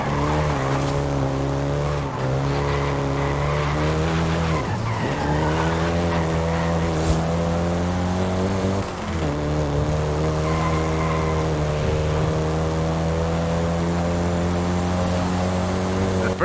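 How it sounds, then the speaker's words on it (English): A Volkswagen Golf GTI drives in Forza Horizon 5, its engine droning loud and steady throughout with rising and falling revs at shifts and brief tire squeals. "including the Golf GTI you're driving right now"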